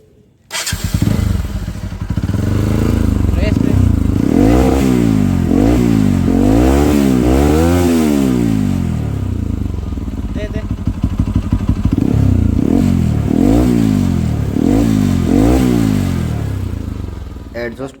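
A Bajaj Pulsar NS200 motorcycle fitted with an SC Project exhaust idles loud and close, then revs repeatedly in sharp rising and falling bursts, with a steady burbling idle between the throttle blips.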